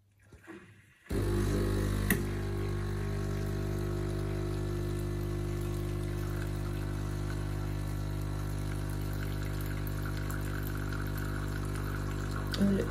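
Sage Breville Barista Touch espresso machine dispensing hot water for green tea: a steady pump drone with water flow starts after about a second of quiet and runs evenly, close and loud, until the end.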